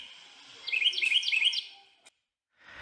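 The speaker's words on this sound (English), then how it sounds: "just a photo app that made bird noises and made kids look at the camera" Bird chirping sounds played by a phone photo app, a bright repeated tweeting pattern in a few quick bursts over a faint background, then a click and brief noise.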